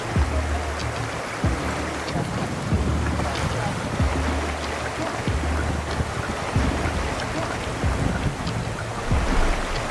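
A boat engine drones steadily beneath gusting wind and broadband water rush in Peru, with repeated thumps as the hull slaps over rough waves and takes on water.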